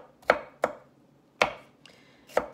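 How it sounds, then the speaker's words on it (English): A knife chops through bell peppers on a cutting board, five sharp crisp strikes in an uneven rhythm with quiet gaps between. "So I'm just gonna continue chopping."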